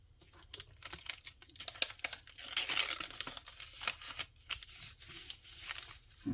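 Paper being cut and trimmed by hand for a junk journal, giving a run of close, dry crisp snips and rustling crinkles in an uneven rhythm, fairly quiet with no talking.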